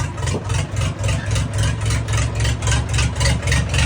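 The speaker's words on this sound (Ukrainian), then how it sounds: "Ось такий трактор їде до свого власника" A heavy tractor engine chugs rhythmically at a steady pace, its low pulsing throb repeating evenly as the tractor drives along.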